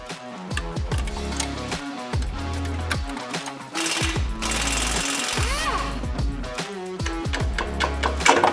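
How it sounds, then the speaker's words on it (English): An impact tool removing front suspension bolts on a Toyota 4Runner, loud repeated rattling hammer bursts separated by short pauses, with whirring spin-downs between them. "start taking out some of the bolts for the front suspension"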